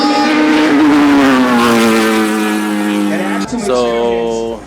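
Cars race on a track, including a BYD Han and Tang against a Camaro and a Porsche 911, with loud engines holding and slowly dropping pitch before another car surges past near the end.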